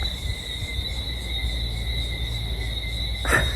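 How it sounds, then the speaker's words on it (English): Cicadas buzz in a steady, continuous high drone under a palm tree in Barbados, with a brief louder burst near the end. "I think it's just cicadas."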